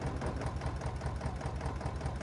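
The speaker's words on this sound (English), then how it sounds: "this is a very nice looking tractor, and it sounds really nice as well" An old tractor in Farming Simulator 22 idling, with a steady low mechanical rumble and a fine rapid patter running evenly throughout, heard alone at moderate level.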